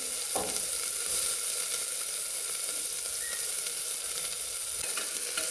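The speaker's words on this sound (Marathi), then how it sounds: "आता आपण कुकरमध्ये तेल टाकून घेणार आहोत मटण शिजवण्यासाठी हे आपण त्याच्यामध्ये कांदा टाकून घेणार आहोत" Onion dropped into hot oil in a pressure cooker for Kolhapuri mutton pandhra rassa, a loud continuous sizzle close up with a sharp initial splash and occasional scraping stirs, no voices.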